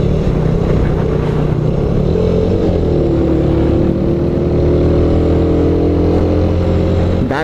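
A motorcycle engine runs loudly and continuously while riding, close up, with a steady droning rumble whose pitch shifts slightly as the revs change.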